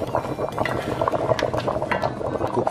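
Tomato sauce thinned with water simmering in a covered pot for chicken parmesan, a close, continuous bubbling and popping with light clinks of the pot, steady throughout.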